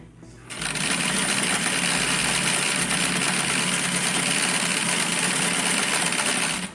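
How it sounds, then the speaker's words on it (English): A sewing machine stitches black fabric in one continuous run, a fast, steady, close whir that starts abruptly and holds at an even loudness for several seconds. "So I'm just going to finish this little stitch here just for the camera."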